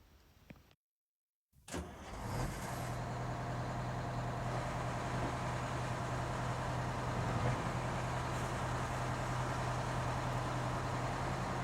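A Wanderlodge bus's Detroit 8V92TA diesel engine cranks and catches after a brief silence, then settles into a steady, loud, low rumbling idle that runs on evenly, with no talk.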